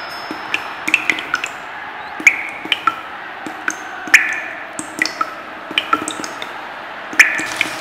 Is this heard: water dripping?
yes